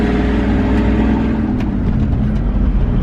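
A truck engine revs hard and steadily as the gas is hit to set up a three-wheel maneuver, a loud continuous rumble with slight surging and no talk.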